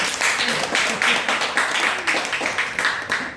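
Church congregation applauding during a Korean worship service to cheer on a member before a final graduation exam, a dense steady clapping that fills the room for several seconds.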